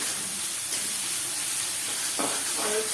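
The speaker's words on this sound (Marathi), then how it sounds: "दोन मिनिट कांदा परतून घ्यायचा आहे" Onion and green chilli sauteing in a pan for a Maggi dish, heard as a steady hissing sizzle with a couple of light stirring sounds toward the end.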